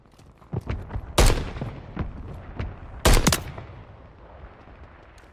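Gunfire in Call of Duty MW3 Warzone: scattered sharp shots with two loud close bursts amid lighter distant pops, fading toward the end.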